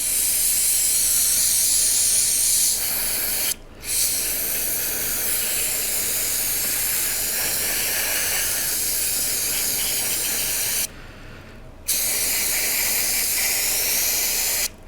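Aerosol cleaner blasts into the open throttle body of a VAZ-2109, a loud close hiss sustained for several seconds and broken by two short pauses.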